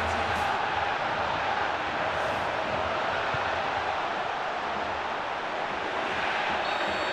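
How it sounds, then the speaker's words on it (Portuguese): Stadium crowd of Fortaleza supporters roaring and chanting in celebration after a goal in a Copa do Brasil match against América Mineiro, a dense, steady wall of sound filling the whole stretch. "Festa da torcida do Fortaleza por aqui."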